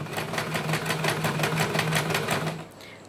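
A sewing machine stitches a buttonhole, a fast steady mechanical chatter of needle strokes close by for a few seconds before it stops.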